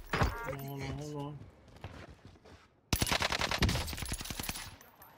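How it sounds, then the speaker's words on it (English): In Call of Duty Warzone on Rebirth Island, a close, loud rapid burst of automatic gunfire follows a stretch of speech and game noise, with shots rattling steadily for the final two seconds. "Look, there's somebody already shooting at me, bro."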